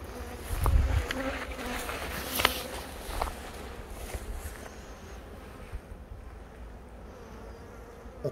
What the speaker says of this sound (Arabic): يكون فينا نشوف صروح النحل على الطيون مثلا.